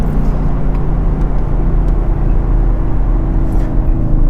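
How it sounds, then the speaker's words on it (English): A 2020 Audi S6 TDI, a two-ton diesel with 700 Nm of torque, launches at full throttle, its engine producing a loud, steady, close roar that holds throughout. "Let's launch it first, see what it sounds like as well. So full foot to the boards."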